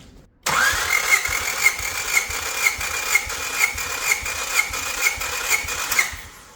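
Honda Civic EG hatchback engine cranking over on the starter during a compression test, a steady, even pulsing chug that starts abruptly and runs for about six seconds without firing, close and fairly loud.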